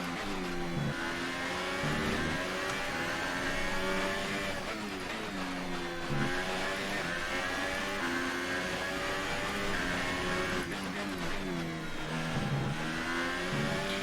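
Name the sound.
Formula 1 car engine in the video game F1 2018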